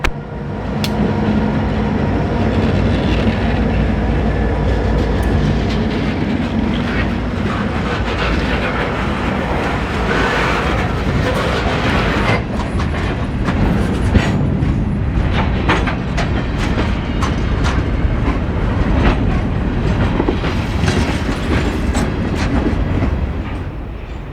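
A train rolls past a trackside defect detector at milepost 726.0 on the Portland & Western's Toledo District, steady and loud, wheels clattering over rail joints in a continuous rhythmic rumble for the whole stretch.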